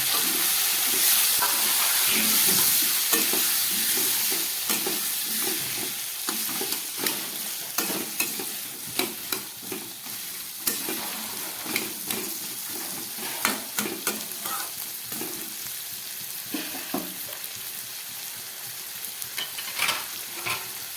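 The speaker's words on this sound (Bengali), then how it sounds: "এখানে আছে আলু ক্যাপসিকাম টমেটো আর পেঁয়াজ দিয়ে খুব ভালো করে আমি ভেজে নেব" Potatoes, capsicum, tomato and onion fry together in a pan for a prawn curry, with a steady oily sizzle throughout and repeated scraping and stirring clatters from a spoon against the pan, fairly close.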